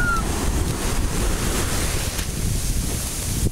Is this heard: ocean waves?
yes